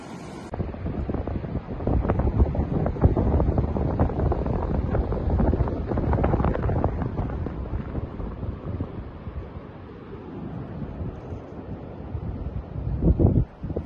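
Cold wind on Crescent Beach in Del Norte County, California, buffets the microphone with a steady, rough roar that rises and falls slightly throughout, with no voices.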